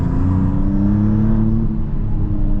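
A 2026 Maserati MCPura with a 3-litre V6 accelerating on a wet road, a loud, close in-cabin engine drone with rising harmonic tones and steady rumble, no voices over it.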